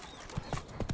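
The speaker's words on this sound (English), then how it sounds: "That's it, Roach." A horse's hooves clip-clop in The Witcher 3, a few uneven thuds over a faint bed of ambient sound, with no talk.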